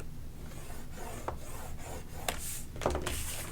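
A bone-type tool is drawn along paper on a scoreboard to score a crease at half an inch, giving soft close-up rubbing and rasping strokes with a few sharper scrapes, in a quiet room with no talking.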